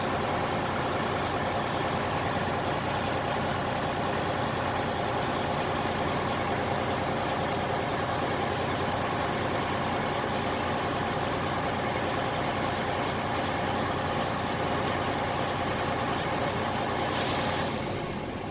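A CDL Class A truck idles steadily with a constant low engine drone, and near the end a sharp burst of hissing air from the brakes cuts through before fading.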